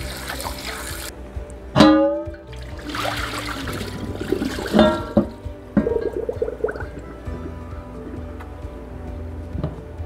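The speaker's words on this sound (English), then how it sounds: "The next thing we're gonna do is wash this piece." Tap water runs and splashes in a kitchen sink as a large cast iron piece is washed, with clanks and knocks of the heavy iron against the basin and a steady trickle throughout.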